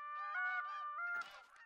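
Several geese in a hunting video game honk in quick, overlapping calls, loud and close, with a burst of noisier flapping-like rustle toward the end.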